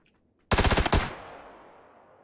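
MP5 submachine gun firing in a video game: a short burst of about six rapid, loud shots followed by a fading echo tail.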